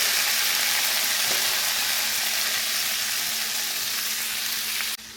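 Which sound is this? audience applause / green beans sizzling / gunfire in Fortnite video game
green beans sizzling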